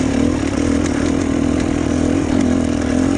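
Two-stroke dirt bike engine holding steady in third gear on a rough trail, a loud, continuous buzzing drone with a raspy edge and small rises in pitch, close and alone with no talk.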